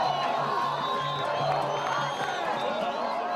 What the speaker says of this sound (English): In Cairo, Egypt, the crowds are shouting and screaming.